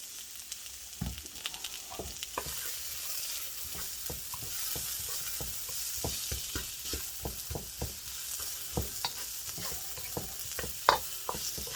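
Onions frying in a pan for chicken biryani, a steady close sizzle with frequent light scraping and stirring taps, with no talking.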